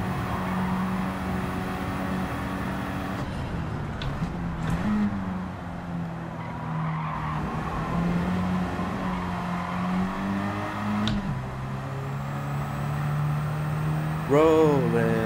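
Racing video game car engine from DS 3 Racing '11, a steady droning motor tone running throughout with shifting pitch, mixed with game music and effects, and a brief rising whoosh near the end.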